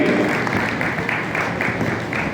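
A large audience at a golden age party gathering in Rajgarh applauds, a steady, dense wash of clapping held at even loudness throughout.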